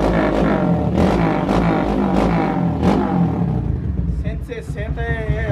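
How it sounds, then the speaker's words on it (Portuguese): A small motorcycle fitted with its original camshaft idles and revs unevenly nearby, its engine note rising and falling while someone talks over it. "Então vou dar uma ligadinha na moto pra vocês aqui, rapaziada, ó."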